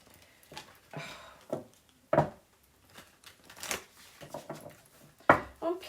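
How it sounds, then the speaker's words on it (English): An animal oracle card deck is shuffled by hand, producing soft irregular riffles, slaps and paper rustles at close range, quiet with sharper bursts scattered throughout. "I can definitely shuffle this deck."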